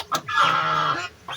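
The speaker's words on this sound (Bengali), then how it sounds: "রাজহাঁস, অনেকগুলো রাজহাঁস আছে এই দিঘির মধ্যে" A goose on a village pond gives one drawn-out, nasal honking call, fairly close and loud, followed by a short quieter cry.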